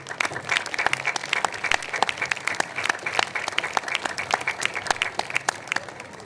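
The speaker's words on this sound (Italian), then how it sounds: "Li accogliamo con un applauso." Audience applause in an outdoor piazza at an evening concert event in Jesolo, a steady wash of many hands clapping with sharp individual claps standing out, moderately loud and continuous throughout.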